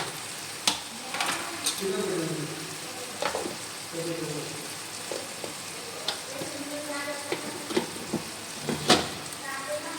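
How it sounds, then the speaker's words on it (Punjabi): Vegetables roasting in a hot pan sizzle steadily while a spoon or spatula scrapes and clacks against the metal in irregular stirring strokes, close and clear, with a voice speaking softly at times. "ਸਿਰਫ 2 ਮਿੰਟ ਅਸੀਂ ਇਹਨੂੰ ਭੁੰਨਾਂਗੇ"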